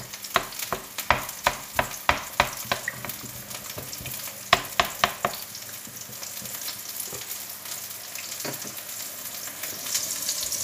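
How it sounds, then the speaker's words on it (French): A pan of crushed peeled tomatoes for a beef meatball goulash-style sauce is stirred, with a run of sharp spoon scrapes and clacks early on over a steady close simmering sizzle that continues alone afterward. "Je vais remélanger en écrasant les tomates pelées."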